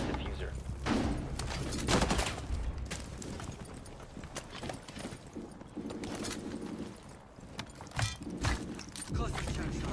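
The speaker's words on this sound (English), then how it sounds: "Detonate cluster charge." A cluster charge detonates in Rainbow Six Siege, a rapid series of sharp blasts and crackling bursts repeating over several seconds amid other gunfire and game noise, loud and close.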